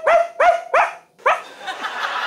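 A small dog barks three times in quick succession, sharp and close, then a fourth bark is followed by softer yips and whimpering under a noisy room.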